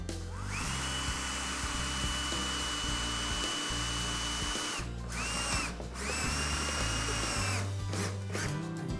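Power drill driving a 2-inch self-tapping screw into the end of a metal track, a loud whining motor that runs steadily, cuts out twice briefly, then resumes, close by.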